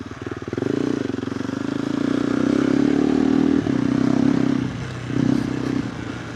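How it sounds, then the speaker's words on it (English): KTM 390 Adventure R motorcycle fitted with a Norifumi Whoops exhaust, heard from the rider's seat on a rural track: a loud, steady single-cylinder engine drone that rises, dips briefly, then surges again. "The exhaust sounds nice from the rider's perspective."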